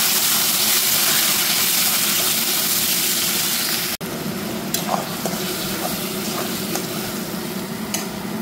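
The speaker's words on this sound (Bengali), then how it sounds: "প্রথমে আমি আলুটা ভেজে দেব।" Potatoes frying in hot oil for a chicken dish, a steady dense sizzle that briefly cuts out, then resumes slightly quieter with occasional stirring clinks and pops.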